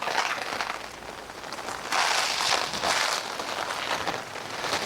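Rain falls steadily outside a greenhouse, a dense even hiss of patter that swells louder for a stretch midway, with no voices.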